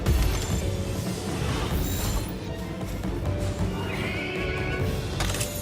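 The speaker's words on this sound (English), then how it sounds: "Oh, now the horse is pissed." In the Palworld video game, a horse neighs and its hooves clip-clop, loud and close, with clattering and a sharp whinny rising near the end over constant game background noise.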